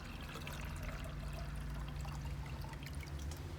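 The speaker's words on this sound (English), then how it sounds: "Fill up my watering can again." Water pouring steadily into a yellow plastic watering can while potting a calathea, a continuous close splashing trickle with a low rumbling fill, no talking.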